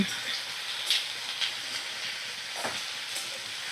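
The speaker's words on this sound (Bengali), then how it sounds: "সমস্ত সবজিগুলো আমি ভালো করে মিডিয়াম ফ্লেমে রেখে ভাজা করে নিচ্ছি" Mixed vegetables fry on a medium flame, a fairly faint, steady sizzle with occasional soft stirring scrapes and light crackles.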